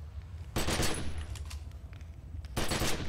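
Assault rifle fire in The Secret World, two bursts of rapid close shots, the first lasting about two seconds and the second starting after a short gap.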